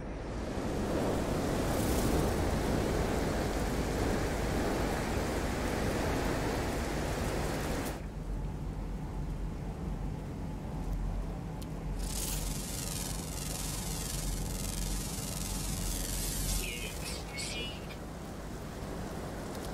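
Storm wind roars steadily in the video game No Man's Sky, a loud, broad rushing gust that drops in intensity partway through. A faint hiss and patter continue underneath, and voices seem to talk over it.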